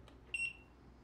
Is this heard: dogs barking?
no